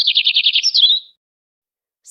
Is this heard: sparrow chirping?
yes